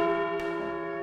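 A bell rings with a single bright, sustained tone that fades slowly, clear and close, in an animated sweet tea commercial.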